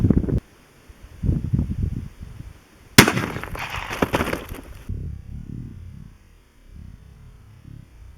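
A .223 rifle firing a 55-grain Winchester hollow-point round into a ballistic gel block outdoors, a single loud sharp crack followed by a few seconds of rumbling echo and wind noise, with low murmurs of outdoor sound before and after.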